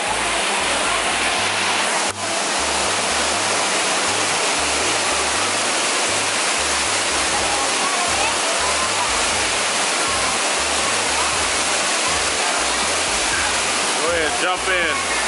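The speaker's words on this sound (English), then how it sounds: "Cooling off at the waterfall." A loud, steady roar of rushing, falling water fills the whole stretch, constant and close, with no pauses.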